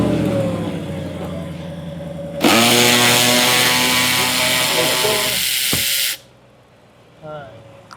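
A Ford Raptor R V8 fires up close by, its engine bursting into a loud, roaring idle that holds for several seconds before cutting off sharply, with mechanical noise before and after.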